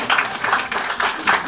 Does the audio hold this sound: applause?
yes